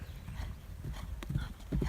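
A horse's hooves clip-clop steadily on ground during a jumping schooling ride on hilly terrain, the beats close and fairly faint, growing a little stronger toward the end with no talk over them.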